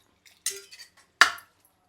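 A metal lid set onto a cooking pot of simmering chickpeas, potatoes and onions, giving two short clanks about a second apart, fairly close in a quiet kitchen.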